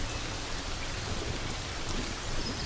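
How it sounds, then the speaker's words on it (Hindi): Raindrops fall steadily on dry grass in the Serengeti. The patter is dense and even for the whole stretch, with no voices. "लेकिन सूखी घास पर पानी की बूंदें पड़नी शुरू हो गई हैं"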